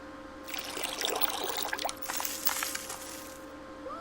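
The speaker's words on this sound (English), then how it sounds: "Let's water the plant." Water pouring onto a potted plant in the flash puzzle game Mitoza, a bright trickling splash lasting a few seconds over a faint steady hum, with no talking.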